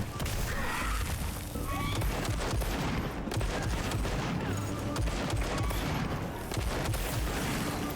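Bowgun fire at a monster in Monster Hunter Wilds, a dense run of rapid, repeated shots with crashing impacts, loud and continuous amid busy game noise.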